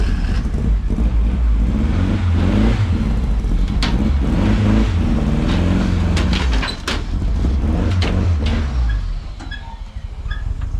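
A loud Ford Fiesta Mk2 race car with a roughly 300 hp engine and open exhaust revs and burbles close by as it is driven up ramps onto a trailer, with uneven throttle blips before settling.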